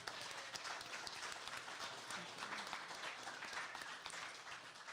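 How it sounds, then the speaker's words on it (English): An audience at a Christmas benefit event in a winery gives a round of applause, a continuous, even wash of many hands clapping, fairly faint and without talk. "Would you give them a round of applause?"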